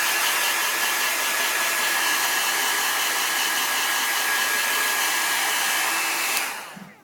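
A heat gun blows hot air to warm the adhesive on a digitizer, as a loud, steady close-up whoosh that runs unbroken for several seconds and then winds down at the end.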